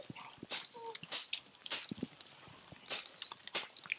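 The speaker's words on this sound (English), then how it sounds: "That's my dog whining in the background." A dog whines and whimpers in short, high, intermittent bursts, wanting a stick thrown, with footsteps and rustling outdoors close by.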